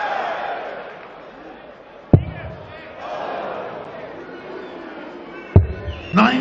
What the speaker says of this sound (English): The crowd really baying for a 9-dart finish on the European Tour.